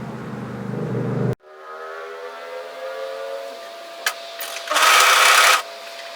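A serger overlocks a hoodie seam in steady, close machine whirring after an abrupt start, with a brief click and a louder burst of stitching near the end.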